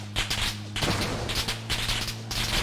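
Gunfire in the PUBG New State video game rattles out in loud, rapid automatic bursts, several clusters of shots separated by brief pauses, heard close without any talk over it.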